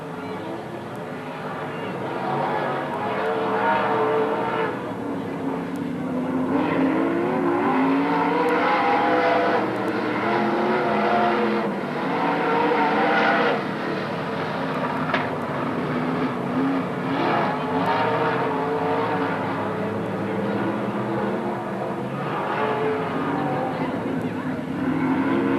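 Race cars circuit racing on the Magic City Speedway dirt track in Billings, Montana, a dense continuous roar of several engines rising and falling as the pack passes, with an announcer talking over it.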